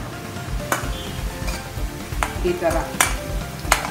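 Garlic fries in a pan with a steady sizzle, punctuated by several sharp spatula clacks against the pan, while a voice briefly speaks.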